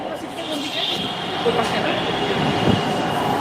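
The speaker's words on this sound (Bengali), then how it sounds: "এই যে দেখুন মেট্রো রেল স্টেশন" Train noise at a Dhaka metro rail station: a steady rumbling wash with a faint high squeal, continuous and moderately loud, with a voice talking over it.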